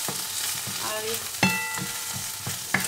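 Food sizzles steadily in hot fat while a utensil stirs it, scraping and clinking against the pan a few times, up close and with no talking.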